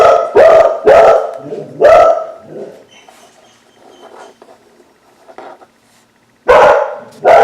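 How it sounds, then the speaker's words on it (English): Several dogs bark in short sharp bursts, three loud barks close together at the start, a quiet stretch of faint rustling, then another loud bark near the end. "I'm going to finish this row because the dogs are barking"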